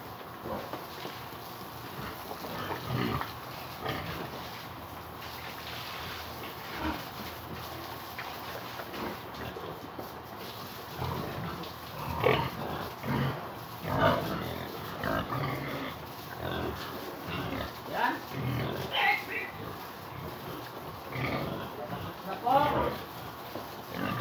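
Pigs grunting and oinking on a farm at feeding time, scattered close grunts and snorts over a low background with occasional shuffling.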